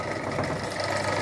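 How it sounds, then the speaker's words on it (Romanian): An electric geared motor drives a pork sausage-making machine, giving a steady, dense mechanical drone that runs continuously and fairly loud throughout. "Deci aici ai un motor"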